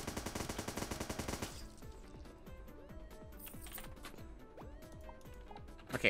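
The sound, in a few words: machine gun firing in the video game Starbound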